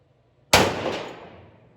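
A single sharp pistol shot at an outdoor shooting range, an abrupt loud crack that rings out and decays slowly over more than a second, preceded by near silence.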